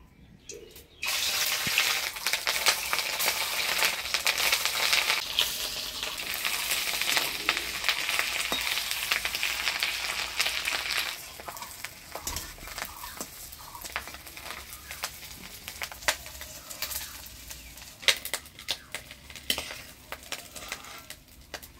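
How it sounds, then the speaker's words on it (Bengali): Fish roe frying in a pan of oil in a village kitchen, a steady bright sizzle for about ten seconds that then drops to softer crackling, with occasional clinks of utensils and no talk. "ততক্ষণে আমি মাছের ডিমগুলা ভেজে নিই"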